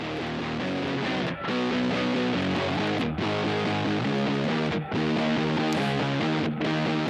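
Several layered electric guitar tracks from a four-piece rock band play together in a loud, dense, sustained mix, with brief dips in level between phrases and no talking.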